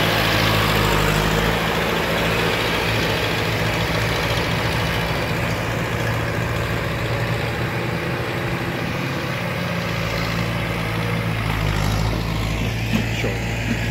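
A John Deere 3020 tractor engine runs at a steady, loud low rumble with a constant droning hum that continues the whole time, briefly dipping in the lower tones midway.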